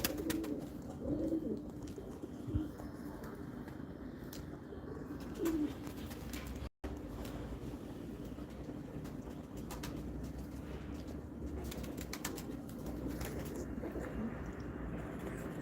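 Pigeons coo softly in short, low phrases against a quiet outdoor background, with faint rustling.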